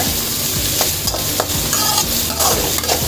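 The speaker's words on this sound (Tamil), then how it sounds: "இப்போ இந்த சின்ன வெங்காயத்தை போட்டு நல்லா இப்படி கிண்டி விட்டுருங்க." Small onions sizzle loudly in leftover chicken oil while a spoon stirs and scrapes the pan in quick, repeated strokes, all close and with no talk.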